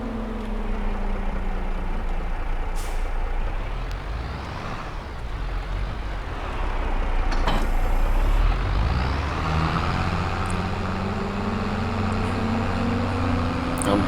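A 240-horsepower tractor engine in the Farming Simulator 22 video game droning continuously, its pitch sliding down and then climbing again as it labours, with a brief hiss and a louder surge midway.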